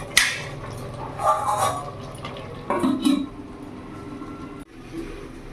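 A lid is set back on a pot of handi chicken with a short metallic clink near the start, and fainter knocks of cookware follow over a low kitchen background.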